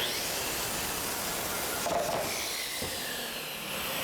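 A saw blade cuts through a wooden kitchen shelf at a marked line, producing a continuous loud, hissing rasp that holds steady throughout, close by with no voices.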